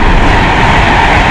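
A Pendolino express train roars through Nuneaton station at speed, a loud, steady, broadband rush of wheels and air that fills the whole moment without letup.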